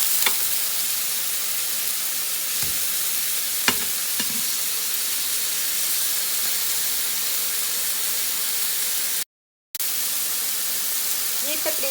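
Chapli kababs frying in a pan over medium heat, giving a loud, steady hiss and sizzle throughout, with a few faint clicks of turning and a brief drop-out near the end.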